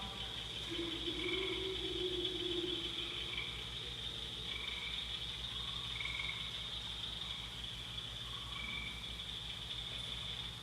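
A chorus of cricket frogs calls steadily under a constant high insect-like drone, with repeated chirping bursts spread across a quiet outdoor night.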